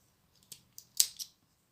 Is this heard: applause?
no